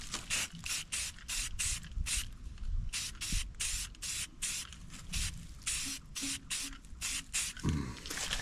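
Black acrylic enamel sprays from a can onto DIY truck camper frame mounts in a quick series of short hissing bursts, some longer, close by with brief pauses between them.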